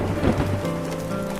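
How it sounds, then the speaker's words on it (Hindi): A cartoon thunderstorm with rain hisses steadily, with a low rumble of thunder underneath; no one speaks. "बादल जोरों से गरजने लगते हैं और बिजलियां भी चमकने लगती हैं।"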